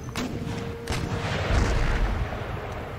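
Artillery fire in the Empire: Total War strategy game, a steady barrage of low booms and thuds rolling over each other with a rumbling din, building slightly louder toward the middle and staying dense throughout.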